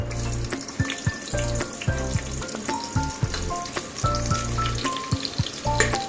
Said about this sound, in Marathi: तर आता फोडणीसाठी आहे कढीपत्ता आणि कांदा, ते घालते